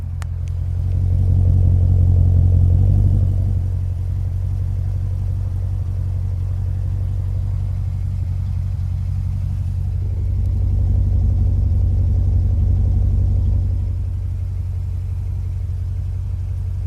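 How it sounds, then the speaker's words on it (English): A 2014 Jeep Grand Cherokee idles with a deep, steady engine sound and low dual-exhaust rumble, holding constant for the whole stretch with a slight swell near the start and middle. "So that's what the engine and exhaust sound like at idle."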